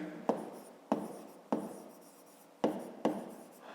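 Pen writing a math solution by hand on paper, in five sharp taps each trailing into a short scratchy stroke, close and quiet.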